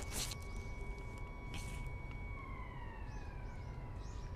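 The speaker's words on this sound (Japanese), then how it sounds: "7時のサイレンか、これ。" A seven o'clock town siren holds a steady tone, then slowly falls in pitch, sounding from a distance over low background rumble, with a few brief sharp noises early on.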